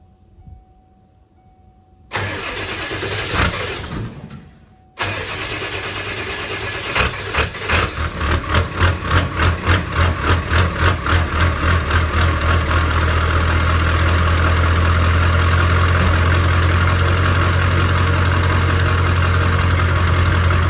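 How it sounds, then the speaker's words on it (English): An OBS Ford Powerstroke diesel truck on a cold start with a 5-inch straight-piped exhaust cranks briefly, stalls, then cranks again and catches, settling into a loud, rough, rumbling idle with a steady low exhaust drone. "So let's get that cold start for you guys."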